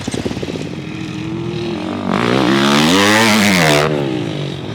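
Two KTM 250F four-stroke dirt bikes rev hard one after the other on a practice section, the first passing lower and buzzier, the second climbing loud and close with rising pitch before fading slightly.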